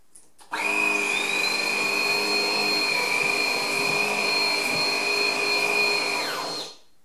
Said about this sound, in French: on va voir si on peut aspirer ça d'un coup avec le Secotec 900 Ergo Wet